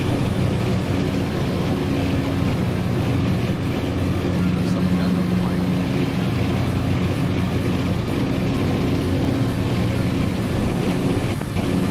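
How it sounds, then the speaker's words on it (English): A steady, broadband airplane cabin engine drone roars without pause through a stuck radio microphone during a simulated backcountry fly-in, loud and unchanging for the whole stretch, with no clear voice above it. "Whoever that is sounds like they're actually in an airplane."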